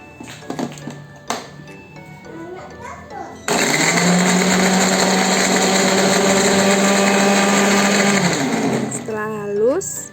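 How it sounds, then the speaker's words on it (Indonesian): After some clinks and a voice, a blender grinding garlic cloves with a little water starts abruptly and grinds at a steady high whine for about five seconds before winding down. "Sekarang kita akan siap-siap halusin bawang putihnya. Aku blender aja ya."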